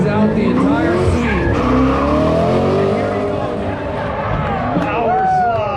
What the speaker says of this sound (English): Power slide.